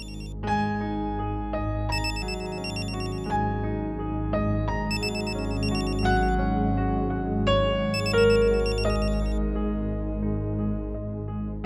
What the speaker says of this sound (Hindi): सिद्धार्थ का फोन है।